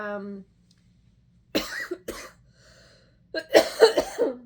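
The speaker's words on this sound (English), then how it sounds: "I coughed." A person coughs a few times in short broad bursts, close and fairly loud, separated by a pause, with a brief spoken sound just before.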